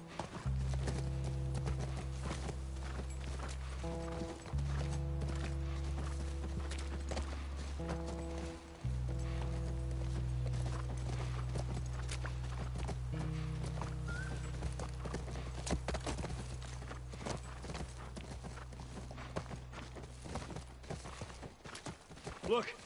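Rhythmic clip-clop of horse hooves in the video game The Last of Us over a sustained low musical drone, with a few faint knocks and rustles throughout.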